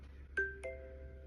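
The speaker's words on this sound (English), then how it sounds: "The first tone on the list today is called Milestone." A two-note iOS 17 Milestone text tone rings out, a bright chime followed by a lower ding-dong that lingers and fades, quiet and alone.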